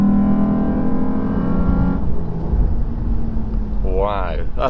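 A Land Rover Freelander 2 with a CVT gearbox accelerating on a mountain pass, its engine droning loud and close as the tone climbs and then evens out, with a voice speaking over it near the end.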